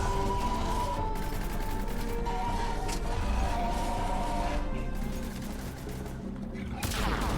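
Enemy gunfire in the sci-fi shooter Mass Effect 3: a continuous rattle of shots and impacts at moderate volume, with tonal game effects layered underneath and a sharper burst near the end.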